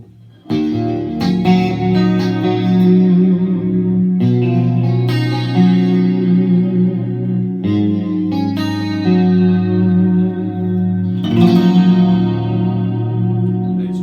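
Electric guitar with its piezo and magnetic pickups blended for a clean tone, playing sustained, ringing chords in four loud strummed phrases with no voices.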